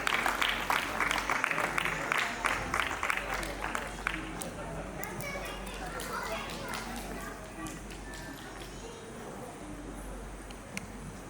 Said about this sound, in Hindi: खूब सारी तालियों के साथ उनका स्वागत कीजिए